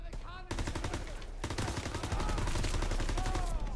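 Dense machine gun fire in the World War II shooter Call of Duty WW2, a loud, rapid, continuous burst of shots that carries on almost without pause, with battle noise around it.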